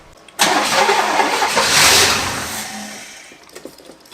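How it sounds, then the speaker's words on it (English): A seized 1960s luxury car engine that has sat for 30 years cranks and catches, then roars loudly close by before gradually settling and fading. "Let's try to fire it up again, see what it does."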